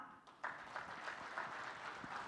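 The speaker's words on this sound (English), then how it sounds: "One big round of applause for him." Applause from a keynote audience at a corporate conference on digital transformation, a fairly faint, steady patter of many hands clapping, continuing evenly for the whole stretch without talk.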